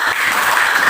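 A brief, loud patter of classroom applause in a teaching session, fast overlapping claps from a small group heard close and unbroken for about a second.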